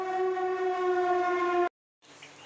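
A loud, sustained train horn blares for a moment and cuts off abruptly, followed by a short silence and then faint background noise.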